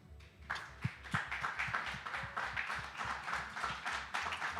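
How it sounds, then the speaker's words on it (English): An audience at a 2023 Miss Face of Humanity press conference rises and applauds, a fairly faint, uneven patter of scattered claps with low background rumble and no clear speech. "I would love us to just rise and give her a round of applause."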